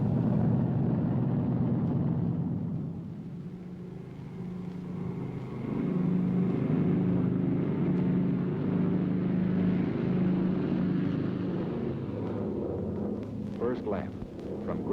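B-29 bombers taking off in 1944 on a mass flight from Grand Island, a loud, steady low engine roar that stays constant throughout, with a voice speaking over it.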